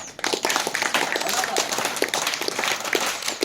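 An audience claps steadily, a dense patter of many hands that stays fairly loud for the full few seconds without pause.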